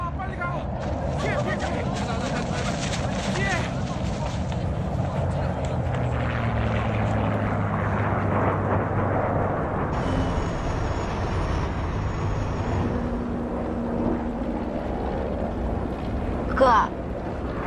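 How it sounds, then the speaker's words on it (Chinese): A bomber aircraft drones overhead in a TV war drama, a sustained low rumbling roar that holds throughout, with a brief sharper sound near the end. "轰炸机路过，肯定会扔炸弹"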